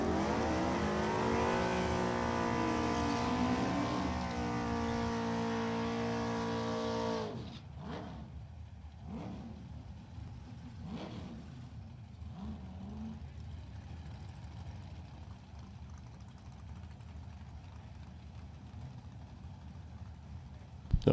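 A Hugger Orange Camaro and other drag racing cars rev and roar loudly at a strip, the engine drone dominating before dropping away to fainter passing engine sounds and crowd noise.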